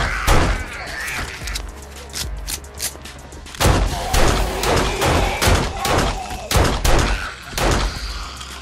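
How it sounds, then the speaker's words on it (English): Rapid bursts of close gunfire in a zombie survival video game, fired through a base hatchway at an approaching horde, with loud irregular volleys of sharp shots and heavy thuds. "I'm going to just swing around the front here and just start shooting through the hatchway here."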